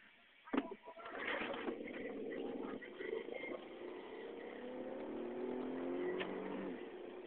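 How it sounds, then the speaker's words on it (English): A 2007 Dodge Nitro engine pulls hard from a standstill toward 100, a steady droning rev heard from inside the cabin that climbs and holds with slight pitch shifts as it moves through the gears. "2007 Dodge Nitro, 0 to 100 test."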